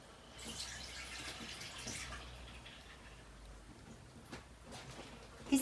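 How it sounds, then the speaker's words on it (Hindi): Water is poured into a jug holding pineapple, sugar and ice for pineapple juice, a quiet, steady splashing trickle heard alone with no talk. "इसके अंदर मैं ऐड करूँगी थोड़ा सा पानी।"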